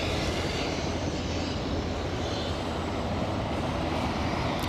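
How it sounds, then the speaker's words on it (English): Beech King Air 200C turboprop of the Scottish Ambulance Service at Aberdeen airport, a steady broadband engine roar holding level throughout as it readies to depart, no voices. "Scottish Ambulance Service, courtesy of Gamma Aviation, about to depart in their Beech King Air"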